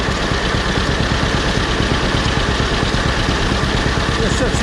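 An old 1944 John Deere engine driving a sawmill idles in a steady, even low throb, close and continuous, with faint talk over it.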